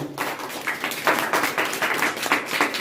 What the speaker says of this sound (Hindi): जोरदार ताली सबके लिए